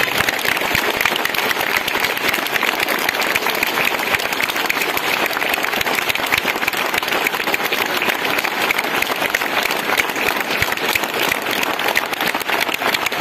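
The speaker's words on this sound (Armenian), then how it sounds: "եկեք ահռելի բարձր ծափերով այս մարդկանց ասենք շնորհակալություն" Loud, dense applause from a crowd honouring parents at the opening of a khachkar memorial, heard as a steady roar of clapping with no pauses and no talking over it.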